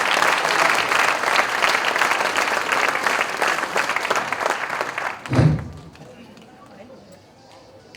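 Loud, dense applause from a crowd welcoming a young director onto the stage, sustained for about five seconds, then a thump and the clapping fading into near silence.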